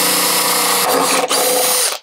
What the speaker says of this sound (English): we've got to drill the holes ourselves